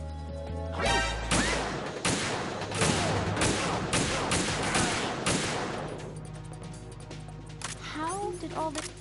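Rapid gunfire and impacts in Metal Gear Solid 2 during a sniping sequence with a PSG-1 rifle, dense loud bursts of shots and crashes packed together, thinning out toward the end as tonal game sounds take over.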